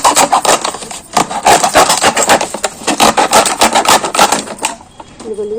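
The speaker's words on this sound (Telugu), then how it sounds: "ఇది రంపం లాగా ఉందన్నమాట నైఫ్, అందుకని 2 in 1 వాడుకోవచ్చు" A serrated knife sawing a hole in a plastic water bottle, rapid rhythmic rasping strokes, loud and close, stopping near the end.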